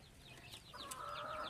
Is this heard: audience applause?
no